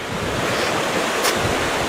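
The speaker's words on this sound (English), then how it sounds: "Now you can hear that rushing creek." Rushing creek water near Lake Superior in April gives a steady, close, broadband roar. It runs continuously with no pauses, and a short hissy swell comes about two thirds of the way through.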